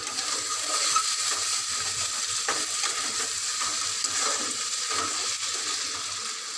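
Chopped tomatoes hiss and sizzle in a pan of oil with ginger paste, stirred with occasional scrapes, a close and continuous frying sound with no voices.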